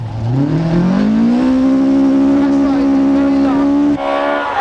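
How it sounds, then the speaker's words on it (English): A rally car with a 290 bhp engine, sequential gearbox and power steering races along a rally stage, its loud engine revving and holding a steady high note close by before a brief gear change, with a voice talking over it. "Sequential gearboxes, power steering and a 290 brake horsepower engine didn't exist in Billy's day, but it takes nothing away from the spectacle"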